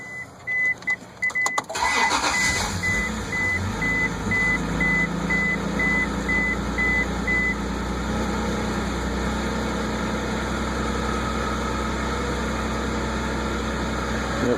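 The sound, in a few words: Honda Passport engine starting after serpentine belt replacement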